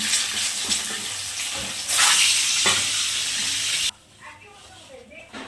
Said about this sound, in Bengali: দেখো সর্ষের তেল দিয়ে তারপর ডিমগুলো ছাড়লাম